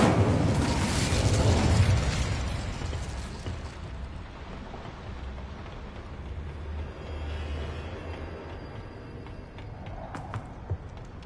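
Incendio fire spell in Hogwarts Legacy: a loud whooshing burst of flame that roars and fades over about two seconds, then a low, steady crackling rumble that lingers quietly.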